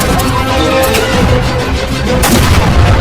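Gunfire from a scene in the action film The Grey Man, with loud, dense shots and booms packed together over a steady rumble, continuous across the whole stretch.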